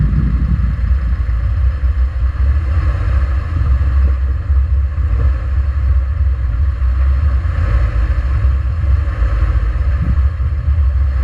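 A Subaru Crosstrek creeps through a turn on a dirt trail in a group of eight off-road vehicles, its engine a steady low idle-like rumble with light clatter and faint knocks, close and continuous with no talking.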